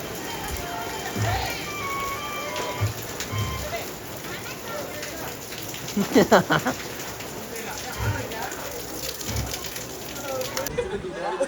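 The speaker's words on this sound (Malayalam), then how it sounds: "നല്ല മഴയാണ്" Heavy rain falls steadily in a dense hiss at a resort in Vagamon, with voices talking and a few louder bursts of splashing partway through.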